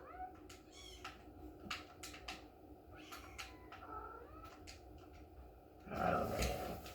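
A cat meows repeatedly in a room, a run of short rising and falling cries that carry over steady background noise. Near the end comes a brief louder burst of handling or movement.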